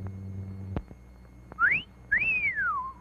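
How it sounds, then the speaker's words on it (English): An appreciative two-note wolf whistle at an intermission concession stand selling hot dogs: a short rising note, then a longer swooping note that climbs and slowly falls, clear and close after a faint click. "the hot dogs at our concession stand do rate an appreciative whistle"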